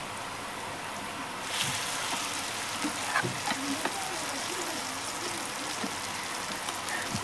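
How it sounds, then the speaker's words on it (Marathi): Onion fries in a hot pan with crushed eggplant and green chillies for a rural-style bharit, a steady dense sizzle with occasional stirring scrapes, close and continuous. "वांगे आणि मिरच्या हे कांद्यामध्ये टाकून मस्त परतून घ्यावे"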